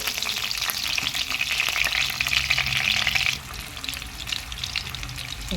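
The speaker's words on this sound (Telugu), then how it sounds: "ఒక మూడు పచ్చిమిర్చి తీసుకొని ఇలా పొడవుగా కట్ చేసుకొని వేసుకోవాలి ఇది కూడా కొంచెం వేగనివ్వాలి" Lengthwise-slit green chillies fry in hot oil for an egg curry, with a loud, crackling sizzle close up that eases to a lower, steadier frying hiss partway through.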